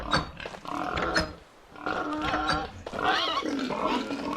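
Pigs grunt and oink repeatedly in the game Peasant Nightmare, a cluster of snorting squeals with a short pause midway, fairly close.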